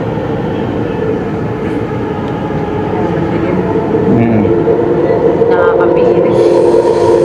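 Train rolling through a long mountain tunnel, a loud steady rumble of wheels and carriage with a faint squeal near the end, continuous and close.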